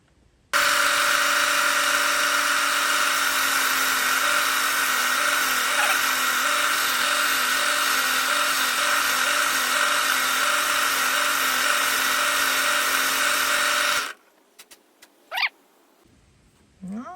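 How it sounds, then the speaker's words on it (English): A power drill drills into a wood board with a steady, loud high-pitched whine running continuously for about fourteen seconds, then cuts off abruptly, followed by a few brief scraping clicks. "we're going to drill a little farther in"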